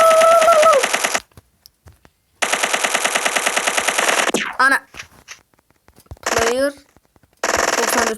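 Sustained bursts of automatic machine-gun fire in a first-person shooter video game, loud and rapid, in long strings broken by pauses, with short shouted voices and game sounds between bursts.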